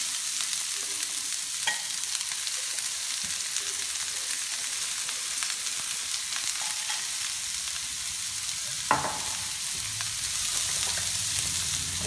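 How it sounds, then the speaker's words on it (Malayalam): Two medium chopped onions fry in a pan with a dense, continuous sizzle, broken by occasional scraping knocks as they are stirred. "ഒരു മീഡിയം വലിപ്പത്തിലുള്ള 2 സവാള കൊത്തി അരിഞ്ഞത് ഇട്ട് കൊടുക്കാം"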